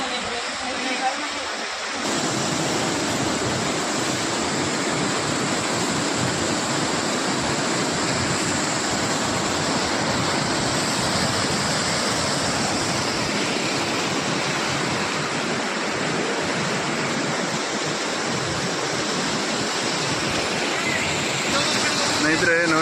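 Vibuti waterfall pouring down with great force: a steady, loud, broadband roar of rushing water that holds without a break from start to finish.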